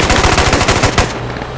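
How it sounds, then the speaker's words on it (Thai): Rapid automatic gunfire in the video game Squad, aimed at a vehicle, hammers out in a dense close burst for about a second, then breaks off into a brief ringing tail. "ยิงรถรถประเภทนี้ยิงรถได้เลยยิงคนขับได้เลยครับ"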